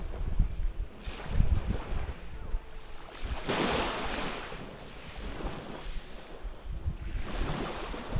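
Sea waves surge and wash on the Lycian Way coast near Tekirova beach in Turkey, rolling in as broad repeated swells under gusty wind noise on the microphone.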